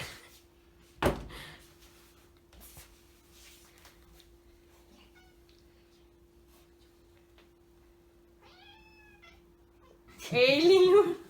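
A cat meowing indoors, a few short faint mews then a louder cry near the end, with a sharp knock early on and a quiet steady hum under occasional talk.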